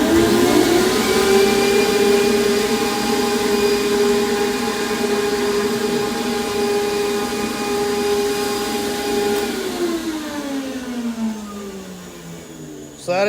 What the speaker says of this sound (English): I'm gonna turn the pumps on, and we're running one zone, and I'm running both primary and secondary on the Black Box Hurricane